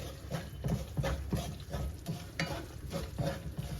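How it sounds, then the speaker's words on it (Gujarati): Semolina roasting in A2 cow desi ghee for sheera, stirred in a pan with a soft steady sizzle and rhythmic scraping strokes about twice a second, close and continuous with no voices. "જો આપણું આ સોજી શેકાવા લાગી છે"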